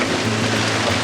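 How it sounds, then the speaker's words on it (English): Rain drums steadily on a boat at anchor in strong wind and swell, a dense, continuous hiss close by with no voices. "I got round 2 of the rain"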